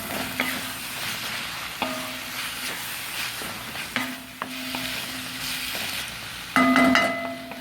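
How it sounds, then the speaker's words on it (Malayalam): Masala for a quail roast is stirred and fried in a pan: a steady, close sizzle with repeated scraping and clinking of a spoon against the pan, and a brighter, louder scrape near the end. "മസാല അത് നല്ലപോലെ കുക്കാവുന്ന വരെ ഒന്ന് കുക്ക് ചെയ്ത് കൊടുക്കുക"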